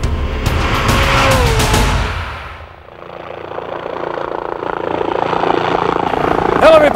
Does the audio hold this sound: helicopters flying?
yes